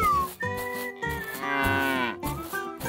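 A cow moos in a few loud, close, drawn-out calls of varying length with short breaks between them, alone without talk, in a farm-animal diorama scene.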